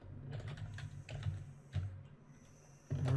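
Computer keyboard typing as a layer name is entered in 3D modelling software, giving quick clicky keystrokes in short bursts, close and fairly quiet, with a brief pause before more keys.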